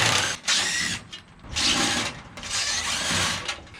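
Ratchet removing bolts from the fender liners of a Jeep Wrangler, with bursts of rapid ratcheting clicks in two or three runs separated by short pauses, close and fairly loud.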